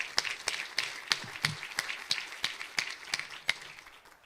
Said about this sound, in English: please join me in one more quick round of applause for Jim and Kathleen Stengel